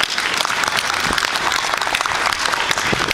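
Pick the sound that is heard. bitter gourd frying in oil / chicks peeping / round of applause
round of applause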